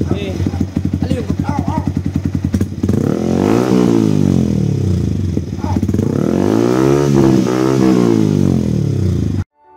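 A Yamaha MT15 or R15 motorcycle fitted with a Yoshimura Alpha exhaust idles with a rapid burbling pulse, then revs hard in several loud, close rising-and-falling sweeps before cutting off.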